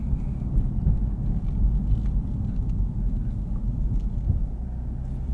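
Interior engine and road noise from a 2026 Lexus IS 350 F Sport AWD being driven while it warms up: a steady, deep, droning rumble at moderate level, with no voices over it.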